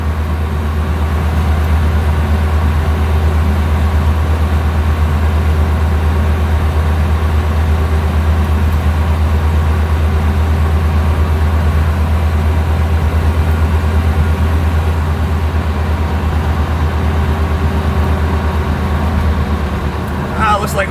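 A Suzuki Samurai fitted with a Geo Tracker 1.6 liter 8-valve engine climbs a hill, giving a steady, loud, low engine drone heard from inside the cab that stays even throughout.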